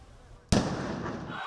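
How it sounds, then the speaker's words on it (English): A sudden firework blast bursts at a government office in Tirana during violent street riots, a loud sharp bang followed by a long, hissing, crackling decay. "Fireworks are being launched at the office of Edi Rama, the country's prime minister."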